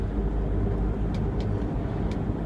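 Steady low rumble of a car interior while being driven home, constant engine and road noise filling the cabin with a few faint light clicks above it and no voices.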